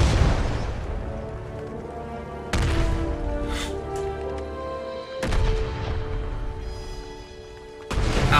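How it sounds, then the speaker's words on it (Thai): Heavy bomb blasts from an airplane raid in the wartime shooter BIA3 strike three times a few seconds apart, each a sharp, loud boom that rolls into a long, rumbling decay. "เครื่องบินเราก็มาทิ้งระเบิดได้"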